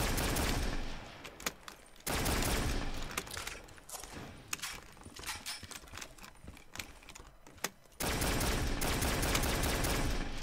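Shotgun fire in the Call of Duty Black Ops 3 custom Zombies map on Mars: loud broadband blasts fill long stretches, with short sharp cracks and a quieter gap between them.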